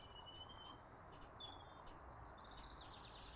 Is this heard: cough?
no